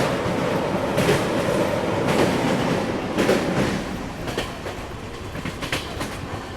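The Udhna Banaras Express rumbles across the Chopan river bridge, wheels clattering in a rhythmic clickety-clack of repeated rail joints, close and steady, then easing slightly toward the end.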